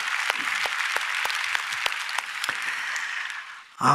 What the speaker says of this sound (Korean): 오늘도 이 자리에 임재하셔서 우리에게 은혜를 주시는 좋으신 하나님께 박수로 감사합니다